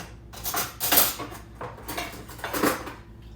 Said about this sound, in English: I'll take a fork and spoon